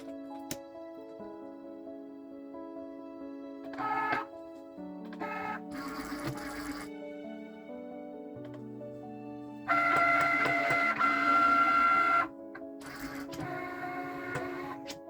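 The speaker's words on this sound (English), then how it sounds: "So I'm going to just insert this into the Cricut for my next base card, and my scoring stylus here." A Cricut cutting machine scores a card base with a scoring stylus, its motor whirring and buzzing in stepped bursts of varying pitch, close and fairly steady, with no talking.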